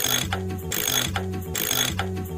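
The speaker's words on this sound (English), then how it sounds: "let me get the SpongeBob wrench" Cartoon-style ratchet wrench effect from SpongeBob: three quick rounds of mechanical clicking, each a rapid cranking burst with a brief pause between, loud and alone.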